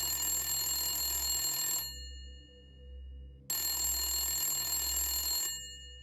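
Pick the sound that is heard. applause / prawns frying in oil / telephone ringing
telephone ringing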